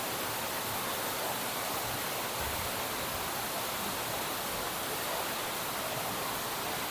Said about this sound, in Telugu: ఆన్ చేసి అక్కడి నుంచి వాటర్ వస్తుంది